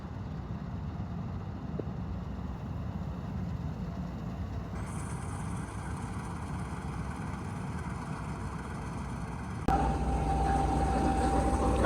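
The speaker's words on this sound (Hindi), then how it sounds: "वो मलकित भी आ रहा है, अभी इसी प्लाट में चलेगा मलकित हार्वेस्टर भी।" A Malkit combine harvester runs through a paddy field at rice harvest, its engine holding a steady, continuous drone that grows a little louder and harsher near the end.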